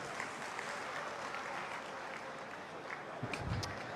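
Audience applause at a political event for a chief minister, sustained steady clapping from a crowd throughout, fairly distant and even, with a few louder claps near the end.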